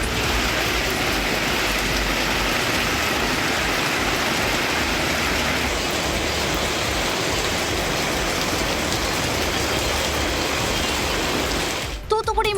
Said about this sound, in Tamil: ராமநாதபுரம் மாவட்டம் திருவாடு அணையில் நேற்று விட்டுவிட்டு கனமழை பெய்தது.